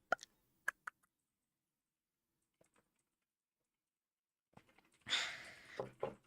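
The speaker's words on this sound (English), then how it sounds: "Okay, let's have a sip." A quiet, close-up sip of water during a calm ASMR reading: a few soft, isolated clicks give way to a short, breathy slurping burst near the end, with no talking.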